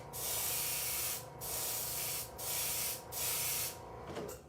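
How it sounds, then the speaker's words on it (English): An airbrush sprays paint at about 40 PSI onto an RC car body in four steady bursts of airy hiss separated by short pauses, close and fairly quiet, with no voices. "I'm spraying probably around 40 PSI"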